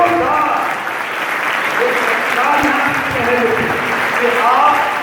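Loud, continuous audience applause fills the space in a dense steady roar of clapping, with faint voices and cheers rising through it at moments.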